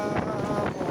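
Strong wind with rain at a market in Bojonegoro, heard as a brief, heavy rumbling gust buffeting the microphone.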